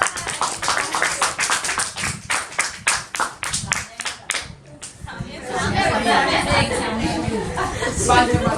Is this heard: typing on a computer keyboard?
no